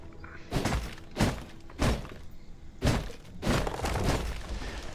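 Repeated heavy strikes on a resource node in V Rising, five loud crunching, shattering impacts spaced about a second apart, the last one longer and rougher as the node breaks apart.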